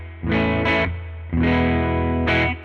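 An electric guitar played through a fuzz pedal on its clean setting, with volume and tone at mid and a Benson Chimera amp plugin, rings out in four strummed chords, each sustaining and fading, close and alone.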